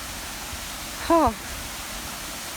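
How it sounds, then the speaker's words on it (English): Steady broadband rush of a waterfall at Krantzkloof Nature Reserve in KwaZulu-Natal, heard from the top of the falls, continuous and fairly close, with a brief exclamation from a voice partway through. "We're at the top of the waterfall, guys."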